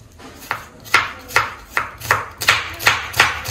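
Knife chopping onions on a cutting board, a steady series of about ten sharp, evenly spaced chops close by, with no talking.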